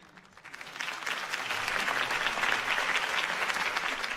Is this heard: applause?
yes